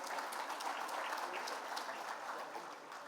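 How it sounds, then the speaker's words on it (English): Steady applause from the audience at a cancer foundation's anniversary event, greeting the chief guest; dense, even clapping holds for the full stretch without letting up. "Please give him a big round of applause."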